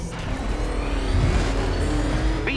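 Batmobile engine in Batman Arkham Knight, revving loudly and steadily with a continuous growl and a brief rise in pitch near the end, no voices.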